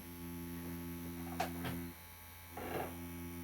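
A Dragonhawk Fold Pro tattoo machine runs with its needle grazing silicone practice skin, giving a faint steady electric hum that cuts out briefly and then starts again.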